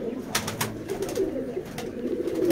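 Low, burbling coos from Rampuri pigeons fill a breeding loft in Howrah, rising and falling in soft overlapping phrases near the listener, with light scraping and clicks in the background.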